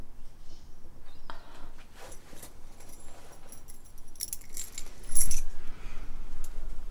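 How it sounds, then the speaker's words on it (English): Flat keys jangle and clink as they are handled and passed over, with several metallic rattles and one louder clatter near the end, close by and without talk. "Give me your keys."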